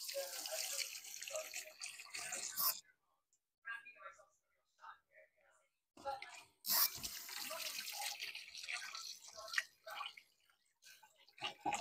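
Beef innards being rinsed under a running tap for the Ilocano dish papaitan, water splashing and gushing in two long stretches around a quiet gap, with faint voice nearby.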